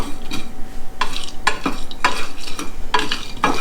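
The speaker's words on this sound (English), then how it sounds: "Keep on stirring because you don't want it to burn." Whole spices for pho, including cinnamon, are dry-roasted and stirred in a pan, with a spoon scraping in repeated sharp strokes over a faint sizzle, close and clear.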